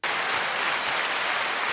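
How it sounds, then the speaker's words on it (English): A canned applause sound effect fired from a button on a comedy talk show, a dense, even burst of clapping at a steady loud level with no voices over it. "Wow, the applause button."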